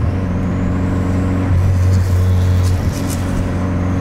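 A VW Golf GTI Mk4 engine running rich while driving, a loud steady low-pitched hum with a brief dip and recovery midway, and no talking.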